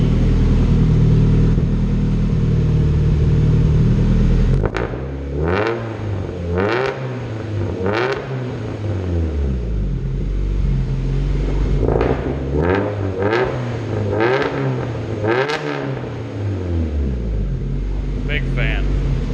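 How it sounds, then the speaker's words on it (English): A turbocharged Honda CR-V engine runs close by, with a steady idle giving way to a series of deep, rising and falling revs, roughly eight throttle blips in an uneven rhythm. Voices talk between and over the revs. "it sounds way deeper with a turbo on it"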